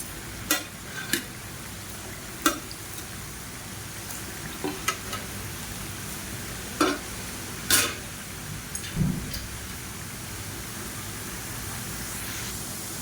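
Murukku frying in hot oil crackles in a constant close sizzle while a utensil turns the pieces, adding a scattering of sharp scrapes and clicks, with no one speaking.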